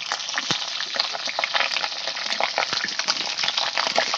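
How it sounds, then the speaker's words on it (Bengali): Whole medium-sized potatoes frying in hot oil in a wok, a steady dense sizzle and crackle with scattered pops, close and continuous with no talk. "তেলটা এখন আমার গরম হয়ে গেছে এক করে গোটা গোটা মিডিয়াম মিডিয়াম সাইজের আলুগুলো তেলের উপরে ছেড়ে দিলাম"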